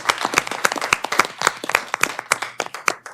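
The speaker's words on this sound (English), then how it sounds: "So a special round of applause to thank our transportation folks." At a state board meeting, a small group claps to thank transportation staff, with distinct individual hand claps in an irregular, moderately quick rhythm, close and clear.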